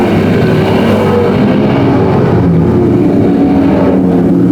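Prostock race cars at Can-Am Speedway roar down the front stretch in a loud, continuous, dense engine blare. The pack passes close, and the roar fades slightly at the end.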